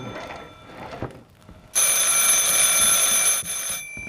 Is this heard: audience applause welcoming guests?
no